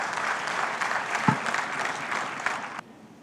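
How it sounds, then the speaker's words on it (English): An audience at an economic dialogue conference applauds a panel on African transformation with a steady, moderately loud round of clapping that runs for nearly three seconds and then cuts off abruptly. "Please join me in a loud round of applause for the panelists."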